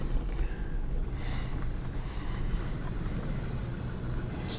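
A 1992 Dodge Caravan minivan rolls slowly down an alley, a steady low engine rumble and road noise heard up close with some wind buffeting on the microphone, no talking.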